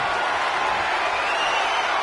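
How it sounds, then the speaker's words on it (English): A wrestling arena crowd in WWE 2K26 roaring and cheering, a loud, unbroken wash of massed voices with no breaks. "This crowd is absolutely thunderous right now"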